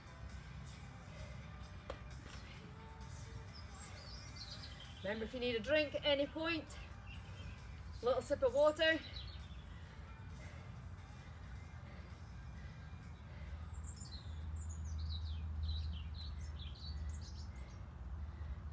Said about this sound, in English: Maybe you can hear the birds tweeting in the background.